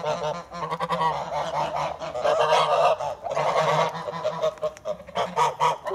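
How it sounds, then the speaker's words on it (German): A turkey gobbles and honks repeatedly in rapid, rattling bursts, fairly close and loud, with no talking. "Ein hübscher Truthahn."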